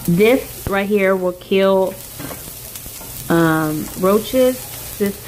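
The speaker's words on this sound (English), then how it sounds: "I'm putting a cut of jalapeno in a hot pan without the fan on." Cut jalapeno frying in a hot pan, a steady sizzle running beneath a voice that speaks through most of the moment.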